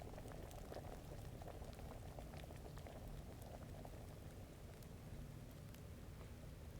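Liquid boiling in a pot while a potion brews in Kingdom Come: Deliverance, a steady, bubbling rumble with crackling pops that carries on unbroken and fairly quiet throughout, with no voices.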